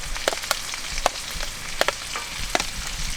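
Onion frying in a pan for fried rice, a steady sizzling crackle with sharp pops and spits standing out every half second or so, close and moderately loud with no one talking.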